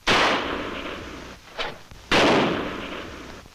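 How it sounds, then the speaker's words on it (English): Two sharp gunshots ring out with a fainter crack between them, each blast trailing off in a short echoing decay. "Tonto, gunfire."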